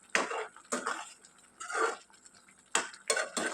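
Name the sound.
stirring chili powder, coriander powder and garam masala into eggplant curry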